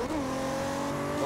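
A car in the Forza Horizon racing game drones with a steady, tonal engine note at high speed, rising slightly toward the end.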